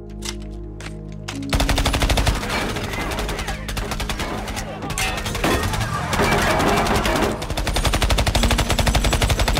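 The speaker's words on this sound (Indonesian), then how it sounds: "mengambil senjata laras panjang dan mulai memberondong para warga yang terus saja membuntutinya" Long-gun fire sprayed at a crowd in a film scene, loud rapid automatic bursts that start after a short quiet lead-in and keep rattling almost without pause to the end.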